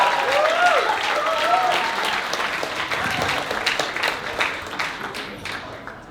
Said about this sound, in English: Make some noise for Paul.